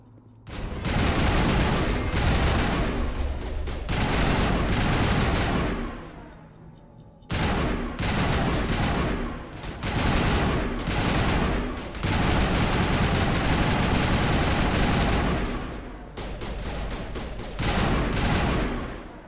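Dense, sustained gunfire from overheating guns in the Mass Effect video game, loud continuous bursts with a brief gap midway before firing resumes, no talk over it.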